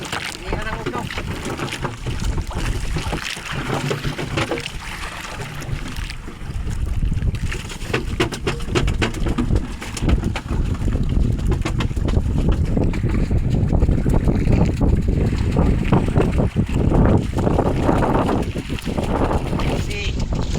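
A boat engine runs steadily on open water, near and droning throughout, with wind buffeting the microphone and people talking over it.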